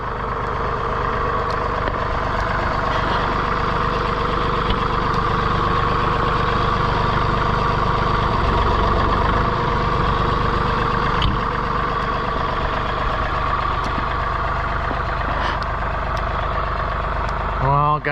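A John Deere 3046R compact tractor running a snow blower: a steady, loud engine drone that holds nearly unchanged for the whole stretch, with a brief clatter at the very end.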